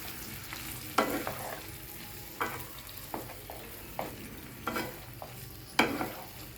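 Chicken pieces and a prepared sauce for chilli chicken fry in a pan, giving a low, continuous sizzle broken by sharp scraping bursts from stirring every second or so.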